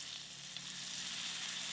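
White wine sizzles in a hot pan while a fish sauce is being made, a close, steady bright crackle and hiss that carries on without talk.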